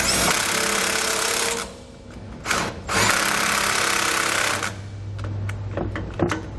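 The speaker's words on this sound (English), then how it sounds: "Once you've got them both started, you can just tighten down your bolts." A power impact tool tightens bolts during a rear anti-sway bar install on a 2015 Thor ACE motorhome. It whirs in long, loud bursts, then rattles in shorter, sharp pulses near the end.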